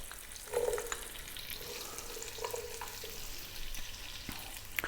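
Onion and carrot sizzling in a pan for soup, a faint steady frying hiss with a few soft stirring clinks, quiet and alone.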